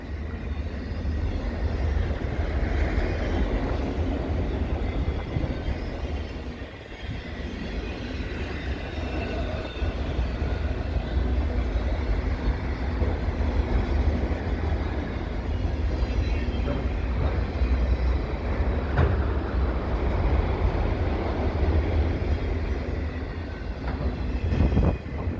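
A CPKC freight train rolls past in a snowstorm, a steady broad rumble of wheels and cars holding at close range throughout with no talking.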